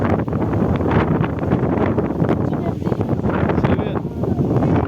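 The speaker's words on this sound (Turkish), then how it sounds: "Rüzgar çok diyor." Strong wind roaring and buffeting the microphone continuously, with faint voices partly buried underneath.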